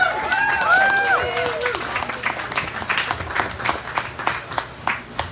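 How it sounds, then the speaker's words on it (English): Audience applause after a speech at a family gathering, a warm burst of many hands clapping with some voices and cheers early on, then steadier scattered claps fading toward the end. "I think they deserve a round of applause."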